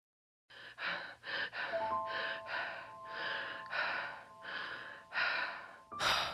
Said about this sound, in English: we didn't have to have that little panting sound effect when she woke up